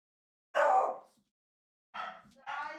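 A dog in the video game Kena: Bridge of Spirits gives a single clear bark, then after a pause two shorter yips in quick succession, close and fairly loud against a silent background.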